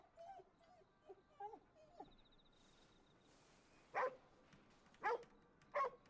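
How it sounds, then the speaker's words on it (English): Dogs in a video game whimper softly in short high whines early on, then give three sharp, fairly loud barks near the end against a quiet background. "Dogs!"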